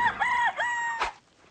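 Rooster crowing at a chicken coop, one loud, close drawn-out crow in several rising and falling parts, followed by a short thump and then quiet.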